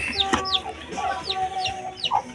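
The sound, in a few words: chickens clucking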